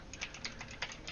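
Quick bursts of computer keyboard typing while playing Project Zomboid, about five or six light clicks close by in just over a second, with no talk.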